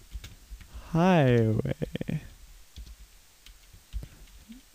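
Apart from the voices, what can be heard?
typing on a computer keyboard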